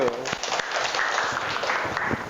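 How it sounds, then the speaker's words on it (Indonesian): A classroom of students clapping together on cue in a bright burst of applause, with voices mixed in throughout the short, steady clatter. "Tepuk tangan dulu."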